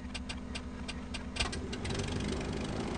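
A propeller craft engine in Amerzone chugs with rapid regular ticking pulses, then throttles up midway into a fuller, steadier drone, moderately quiet and without talk.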